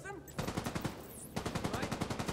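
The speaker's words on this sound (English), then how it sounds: "don't run towards the gunshots" Rapid automatic gunfire in the shooter game The Division 2, loud and close, bursts rattling in fast regular rhythm with a short pause between them.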